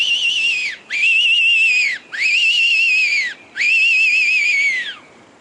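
A handheld fox whistle used for fox hunting in the Australian bush mimics an injured animal, giving four loud, close, drawn-out wavering squeals separated by short pauses.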